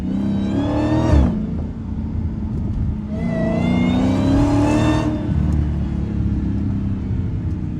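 Dodge Hellcat in sport mode revving hard and downshifting while driving through snow, two loud rising engine surges with a deep exhaust rumble between them, heard from close by with no talk.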